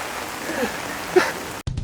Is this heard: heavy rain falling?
yes